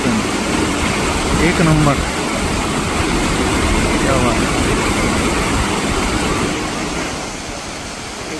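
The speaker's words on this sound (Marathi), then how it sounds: "मित्रांनो, आता वरच्या वॉटरफॉलची धुकं थोडं कमी झालं आहे, विजिबिलिटी होते बघा" Waterfall at Amboli Ghat in misty monsoon hills, a loud constant roar of falling water with someone talking briefly over it near the start before the rush fades slightly toward the end.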